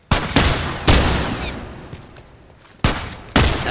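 Gunfire from a new weapon in The Last of Us Remastered: several loud, sharp shots in two close pairs, each blast followed by a decaying echo and a quieter stretch of rumbling game ambience in between.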